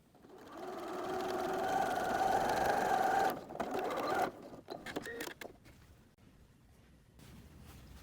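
Sewing machine hemming the twice-folded top edge of a fabric inside pocket for a quilted notebook cover: a steady whirring run that stops partway, then scattered clicks and handling noises.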